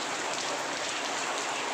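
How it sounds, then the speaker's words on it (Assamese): Steady rain hisses down evenly, a dense, continuous patter with no voices, fairly soft and close. "এয়া চাওক বৰষুণ দি আছে"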